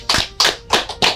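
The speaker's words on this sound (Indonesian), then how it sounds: "Tepuk tangan dulu buat Mas Tangan Hadi saya lagi" Loud, close hand claps strike in a quick series of about five sharp bursts with brief gaps between them, with no talking over them.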